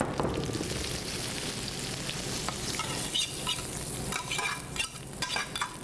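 Garlic and oil being emptied out of a hot skillet into a serving bowl, a loud close sizzle with scraping and clinking as the pan is cleared.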